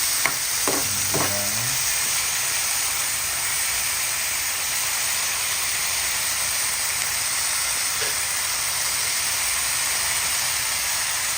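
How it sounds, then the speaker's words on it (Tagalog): Thinly sliced beef for beef and broccoli sizzles and fries loudly and steadily in a hot pan, with a brief clatter of stirring near the start and no talking. "Ayan na po ang ating ginigisang baka"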